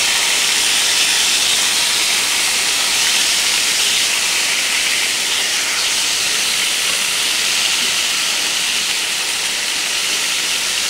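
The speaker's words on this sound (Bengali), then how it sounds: "মাছটাকে আমি এখন ভেজে ফেলবো" Tilapia fish frying in hot oil makes a loud, dense, continuous sizzling hiss that holds steady from start to finish, with no talking.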